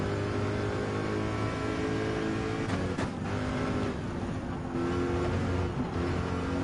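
A race car engine in Gran Turismo 7 drones at steady high revs, loud and continuous, with a brief whoosh as another car passes close by.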